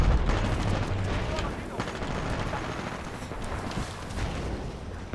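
A grenade exploding amid gunfire in the video game Titanfall 2, heard as a continuous loud barrage of blasts and shots under excited voices.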